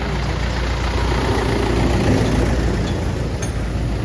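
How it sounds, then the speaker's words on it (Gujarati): A tractor engine idles steadily nearby in an outdoor garden setting, giving a low, constant rumble with an even mechanical drone throughout. "આ સંસ્થાનું બ્રહ્મા કુમારીનું જો ટ્રેક્ટર છે"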